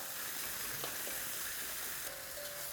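Chicken stir fry frying in a hot pan in a single layer, giving a steady, even sizzle with faint stirring clicks and no talk.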